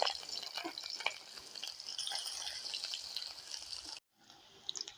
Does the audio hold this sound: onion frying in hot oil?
yes